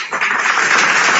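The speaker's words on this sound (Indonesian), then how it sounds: "Tepuk tangan dulu," Loud, dense congregational applause at a church service fills the space close by, a steady wash of many hands clapping with no break.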